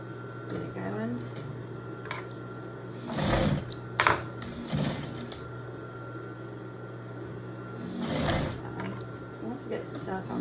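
Sewing machine running a hem through thick drapery fabric for a no-tie apron, a continuous close motor hum with brief louder bursts and clatter, a voice speaking over parts of it.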